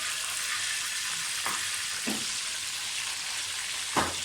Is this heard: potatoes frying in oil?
yes